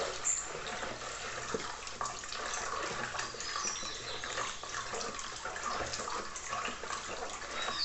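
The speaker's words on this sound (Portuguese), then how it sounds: "E já adicionando o nosso cloro." Chlorine is poured and mixed into water that already holds baking soda, to make scented bleach at home. The liquid sloshes and splashes steadily and close by for several seconds, with no talking.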